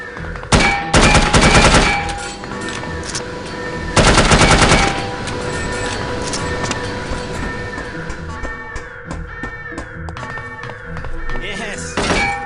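An MPL submachine gun fires in the video game No One Lives Forever, in two rapid, loud bursts separated by a pause, over ongoing game sounds and someone talking.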